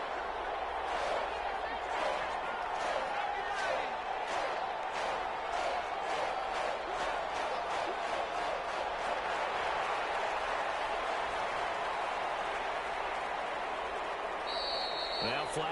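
Stadium crowd roar in an American football video game on PS4, Falcons game, a steady loud wash of cheering and crowd noise with rhythmic clap-like bursts throughout, with commentary talk over it.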